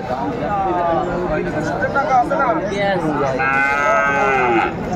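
Several cattle, including Sahiwal bull calves, moo loudly and repeatedly at a livestock market in Cumilla, their long calls overlapping, with a murmur of crowd chatter beneath.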